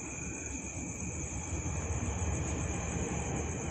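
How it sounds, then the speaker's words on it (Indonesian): Train rumbling steadily past at midnight, a continuous low roar with a high whine above it, moderately loud and sustained, with no talking. "Ada suara kodok, ada suara kereta."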